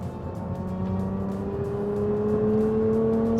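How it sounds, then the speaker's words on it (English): A supercharged car engine accelerates through the gears from inside the car, its rising whine and roar climbing steadily in pitch, loud and continuous, with no voices. "see when the supercharger spools up"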